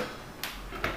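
A stainless steel and wood kitchen drawer in an industrial-style kitchen slides twice in quick succession, each a brief bright whoosh-clack close by, over a quiet room hum.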